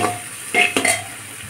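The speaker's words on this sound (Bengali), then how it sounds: "লবণ আর হলুদ দিয়ে দেবো। দিয়ে দেবো, দিয়ে ভালো করে কষে নেব।" Lentils with salt and turmeric frying in a pan, a soft sizzle with two or three quick scraping stirs close by, brief and without voices.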